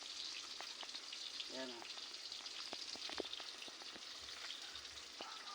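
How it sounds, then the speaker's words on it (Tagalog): Bananas frying in a pan: a steady sizzling crackle with scattered pops and small clatters of a utensil, while a voice speaks a brief phrase partway through. "Bali nagprito na rin pala ako ng saging."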